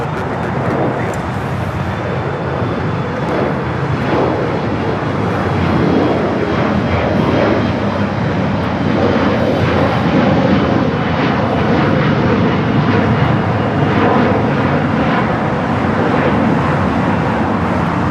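An airliner takes off from runway 25 right at LAX, a loud, sustained jet engine roar that stays steady and broad throughout without fading.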